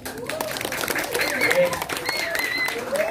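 A group of women clap at a lively gathering, scattered hand claps mixed with chatter and talking voices throughout.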